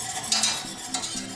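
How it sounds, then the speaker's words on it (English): Buffalo wing sauce ingredients are whisked together in a pan, producing a short, close run of rhythmic swishing and light scraping strokes over a soft background hum. "It's easier to use a whisk to make sure that all the ingredients are mixed up."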